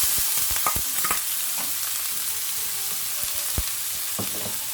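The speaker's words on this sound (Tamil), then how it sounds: "ஆனியன் வதங்கட்டும்" Onions sautéing in oil with cinnamon for a healthy vegetable kothu parotta, a steady broad sizzle with intermittent scraping stirs and spoon clicks against the pan, close and continuous with no talking.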